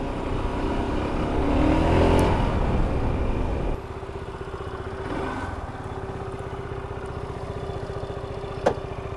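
A 2023 Peugeot XP400 GT motorcycle engine hums steadily nearby, louder for the first few seconds and then settling to a lower, even idle, with a brief click near the end.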